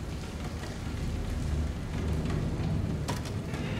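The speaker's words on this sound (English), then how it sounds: "It's raining outside." Steady rain falls outside in a dark horror video game, a constant close wash of patter with a few brief sharper clicks near the end, and no voices.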